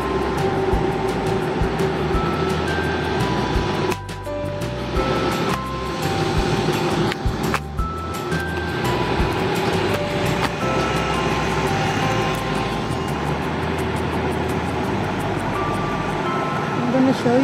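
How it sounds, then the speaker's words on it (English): A train at a railway setting rumbles past loud and close, a continuous heavy roar with metallic tonal squeals and brief dips in the noise throughout. "I'm going to show you the train."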